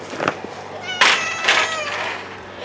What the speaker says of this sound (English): She has a screech.